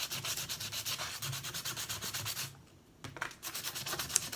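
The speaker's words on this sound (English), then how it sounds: "I need to sand my little deck here. So we're going to try to get all that corrosion, that rusty corrosion off." Sandpaper scrubs back and forth over a small rusty, corroded metal deck from an old electric RC motor, in steady rhythmic strokes close up, with a short pause partway through before the rubbing resumes.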